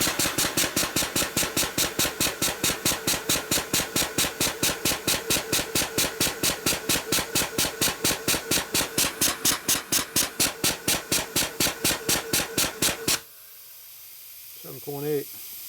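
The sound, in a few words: nitrous oxide transfer pump running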